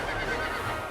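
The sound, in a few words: horse neighing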